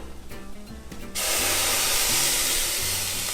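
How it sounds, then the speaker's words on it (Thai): Onions hiss and steam loudly in a hot pan as water goes in, a sudden steady sizzle that starts after a second of quieter cooking sounds and holds to the end. "ให้มันสตีมหัวหอม แล้วหัวหอมก็จะสลดเร็วขึ้น"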